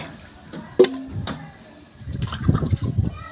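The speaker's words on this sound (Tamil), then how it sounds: "இதில் நம்ம தண்ணி ஊற்றிடுவோம்." Water is poured over pieces of cut freshwater carp, making a quiet click followed by a low, bubbling splash and slosh that grows toward the end.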